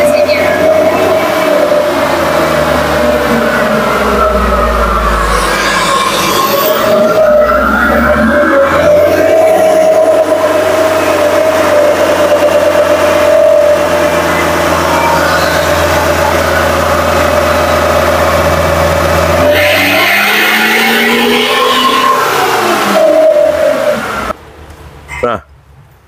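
A car engine running continuously on a dynamometer, a loud sustained drone that rises and falls in pitch as the revs change, with a brief drop and a cut near the end.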